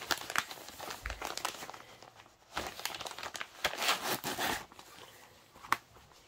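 A cross stitch kit slides out of its paper envelope with close crinkling, rustling and scraping in uneven bursts, ending in a sharp papery snap.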